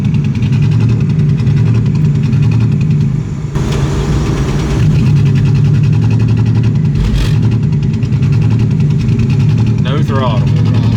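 A turbocharged LFX V6 swapped into a Volvo wagon runs continuously with a loud, rough drone close to the microphone, with brief shifts in pitch and voices talking over it.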